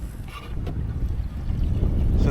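Stihl FS 251 gas line trimmer running steadily while clearing an entire field, a continuous buzzing engine drone that rises slightly in loudness, with gusty wind noise over it.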